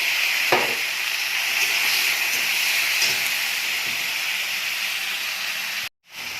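Ginger and tomato fry in a pan with a loud, continuous hiss and sizzle, punctuated by a few stirring knocks, before a brief cut of silence near the end.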